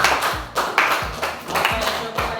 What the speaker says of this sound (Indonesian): Oke, beri aplaus dulu untuk beliau